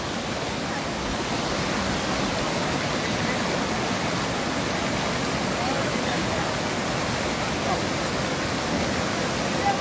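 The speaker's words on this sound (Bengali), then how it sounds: "পানির খুব গতিতে পানি ঢুকে বেশি গতি" Floodwater rushes in at high speed during a flood in Sylhet, making a loud, steady, broadband roar that stays close and continuous for the whole stretch.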